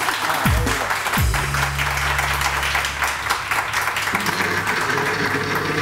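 Studio audience clapping on a morning TV show, continuous applause with a few swooping tonal effects and a sustained low tone layered over it.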